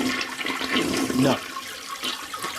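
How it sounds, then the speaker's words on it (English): A toilet flushes with a rushing, gurgling burst of water lasting a couple of seconds, fairly loud against a steady hiss. "Toilet flush."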